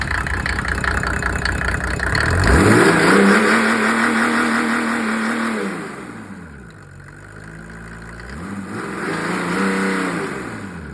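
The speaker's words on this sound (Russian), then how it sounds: "А ну погазуй, Макса." A Mercedes OM603 diesel car engine revs up hard, holds a loud roar, drops back toward idle, then revs again, close by with no talking.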